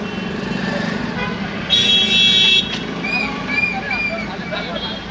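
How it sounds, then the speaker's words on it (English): Congested traffic at Calangute Baga Circle in Goa: a steady roar of idling and creeping cars and motorcycles, with a loud car horn blaring for about a second midway and fainter horn toots afterward. "There's a lot of traffic jam here."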